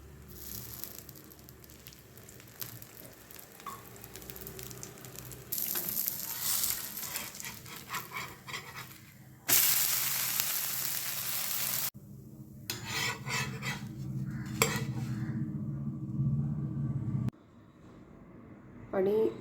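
Pea dosa frying in a little oil on a pan, with bursts of crackling sizzle and rasping scrapes that start and stop abruptly between quieter stretches.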